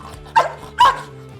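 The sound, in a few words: police K9 dog barking on command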